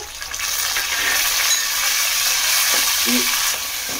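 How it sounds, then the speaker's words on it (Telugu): Onions, curry leaves and chopped tomatoes frying in oil for a raw banana curry, giving a steady close sizzle with faint stirring scrapes throughout, no talking. "ఇవి కూడా కొంచెం బాగా మగ్గిపోవాలండి ఆయిల్లోనే."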